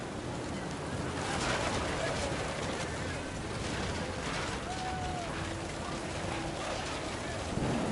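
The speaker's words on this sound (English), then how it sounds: "The rain came down in buckets then" Heavy rain pours steadily during a storm in the video game What Remains of Edith Finch, a dense continuous hiss with faint rumbles beneath and a voice speaking over it.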